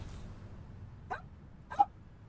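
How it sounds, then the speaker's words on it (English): Dogs in the distance give two short, faint barks about half a second apart over quiet background noise, with no speech. "Dogs are gonna go a little crazy"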